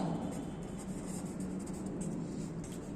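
Chalk or marker writing on a classroom board during a third-grade maths lesson, a soft continuous scratching and tapping at close range with no speech over it.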